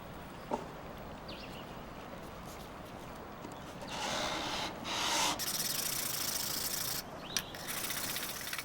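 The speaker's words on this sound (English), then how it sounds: "These hand sanding blocks were a gift from a viewer, and they worked well for sanding the base" Steady rasping strokes of a hand sanding block on the wooden base of an antique dresser, scratchy and close, growing louder and harsher in the second half, with no voices.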